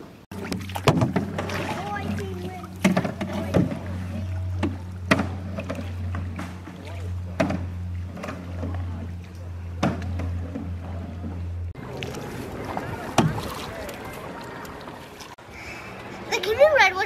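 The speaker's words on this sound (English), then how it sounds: "The canoe ride was a blast." A canoe is paddled along Wekiwa Springs in the Florida woods, with soft strokes and knocks against the hull under nearby conversation and a low steady hum.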